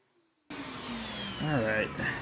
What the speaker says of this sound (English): I'm just going to go ahead and try vacuuming up just to see what's happening.